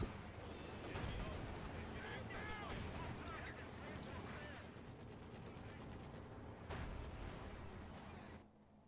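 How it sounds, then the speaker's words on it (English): Panzer IV tank in Company of Heroes 2 firing through a hedgerow amid a battle, with repeated loud gunfire and blasts over constant battlefield noise, a voice talking throughout. "the Panzer IV is using attack ground to shoot through this hedgerow"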